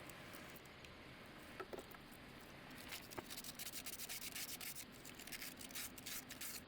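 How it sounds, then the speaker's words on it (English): Sandpaper worked by hand over the fibreglass inside the sugar scoop of a catamaran, quiet repeated rubbing and scratching strokes in an irregular rhythm, close and fairly faint. "I'm wearing out the corners of the sandpaper going up in the corner of the sugar scoop."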